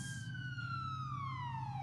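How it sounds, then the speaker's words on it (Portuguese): A siren wails in a TV sports studio, one long tone gliding slowly downward, steady and fairly faint, with no talk over it. "Tocou a sirene."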